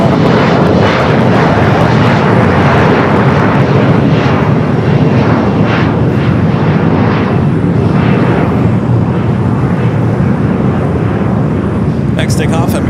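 An airliner takes off from runway 25 Right at Los Angeles International Airport, its engines producing a loud, sustained roar with pulsing surges that fill the whole stretch, with a brief crackle near the end.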